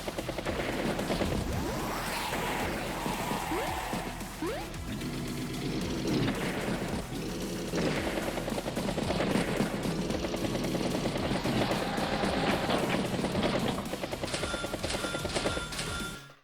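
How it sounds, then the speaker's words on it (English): Battle copter attack in the Advance Wars video game: a steady churn of helicopter rotor noise mixed with bursts of machine-gun fire and a few booms, dense and continuous throughout. "Battlecopter head down south, strikes the battlecopter, takes out the bomber."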